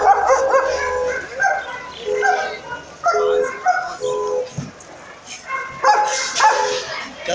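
A dog at a busy weekly market gives repeated yelps and whimpering barks in short bursts, close by, mixed with people talking nearby.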